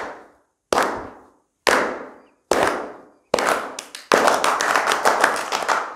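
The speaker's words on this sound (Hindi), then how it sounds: "तालियां तो बजा दो भाई।" Loud, echoing claps ring out one at a time, about a second apart, each fading into a reverberant tail, then speed up into a rapid burst of clapping.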